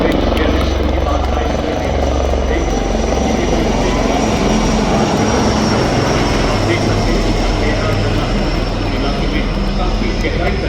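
Indian Army Dhruv helicopters pass over a Republic Day parade on Kartavya Path, their steady, loud rotor and engine roar filling the whole stretch without a break.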